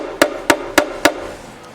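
A mandolin heel is struck four times in steady succession by a hammer, each blow a sharp, close knock with a short ring, followed by a quiet pause.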